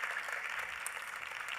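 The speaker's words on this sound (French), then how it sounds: "Je pense qu'on peut faire mieux, s'il vous plaît, en termes d'applaudissements" Audience applause at a conference session, a soft, steady wash of distant clapping, faint and even throughout the short stretch.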